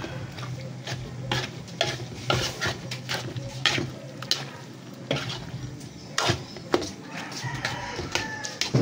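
Pork sisig with chili and mayonnaise being stirred in a pan, a steady close sizzle broken by repeated sharp scraping and clinking of a utensil against the metal.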